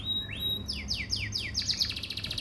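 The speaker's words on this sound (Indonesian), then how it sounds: "Tapi suara kenari loper juga bagus" A loper canary, a yellow male of a Yorkshire-type build, sings close by in a bright run of rising whistles followed by a quick series of repeated sweeping chirps, with no talking over it.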